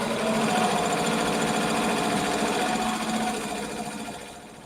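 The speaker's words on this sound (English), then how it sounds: "see it sewing here, and then let's just do a quick close-up" A sewing machine stitching fabric held in an embroidery hoop frame, running as a fast, even mechanical whir close up, then fading slightly toward the end, with no talking.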